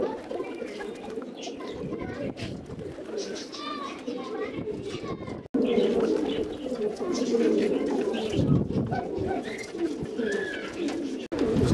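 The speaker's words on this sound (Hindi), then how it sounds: "अभी कबूतरों को उड़ा के बिठाए हमने" Pigeons coo in low, repeated murmurs, with children's voices and chatter in Hindi in the background and occasional bursts of fluttering.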